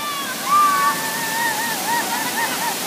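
Kabigan Falls pours in a steady, broad rushing roar of falling water close by, while faint voices drift in the background.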